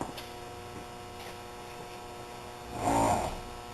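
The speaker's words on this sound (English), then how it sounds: "There's the compressor again." Compressor on a ZUBER one-truck smokehouse with sensors, a faint steady electrical hum that swells briefly louder toward the end.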